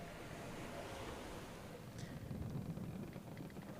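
Wind and waves wash steadily around a creaking ship, a dense broadband rushing surf that swells slightly in the second half, with no clear creaks standing out.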